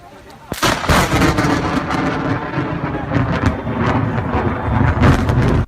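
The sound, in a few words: thunder from snow lightning in Southern California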